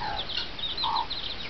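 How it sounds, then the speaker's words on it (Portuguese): A hen clucks in a few short bursts over a steady rustling outdoor background, with no one talking. "Fala, galinha!"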